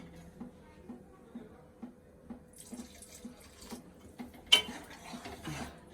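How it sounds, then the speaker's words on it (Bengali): Water pours from a container into simmering paneer gravy in a home kitchen, a steady trickling splash that builds near the end over faint rhythmic ticking in the background. "এবার পরিমাণ মতন জল দিয়ে দিচ্ছি, যেটুকু লাগে"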